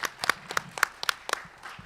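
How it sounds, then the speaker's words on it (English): A small audience at an open-education talk claps in sparse, scattered rhythm, with a handful of crisp, separate hand claps close by rather than a dense roar. "Let's give Chuck a round of applause,"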